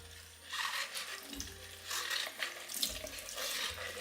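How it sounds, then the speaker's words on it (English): Tap water runs into a sink to load a paint roller sleeve during cleaning, a steady hiss with splashy surges that come and go over a few seconds. "Then I'll just load it up again"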